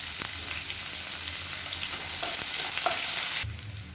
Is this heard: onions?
yes